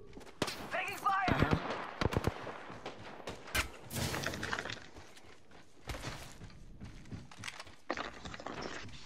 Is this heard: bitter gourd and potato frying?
no